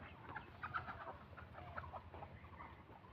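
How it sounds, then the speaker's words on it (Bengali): A flock of about 180 laying ducks and 22 drakes kept in a confined shed makes a faint, continuous jumble of quacks and calls over a steady background murmur. "এই যে আমার হাঁসগুলা।"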